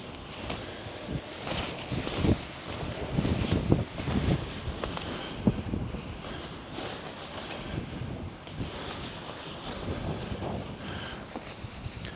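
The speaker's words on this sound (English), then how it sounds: "it's a blustery day" Wind gusts on a blustery outdoor day, rumbling and buffeting against the microphone in irregular bursts that rise and fall, with no talking.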